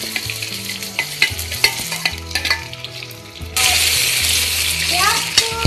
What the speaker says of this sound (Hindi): प्याज को गुलाबी कलर आने तक हम इसको पकाएंगे।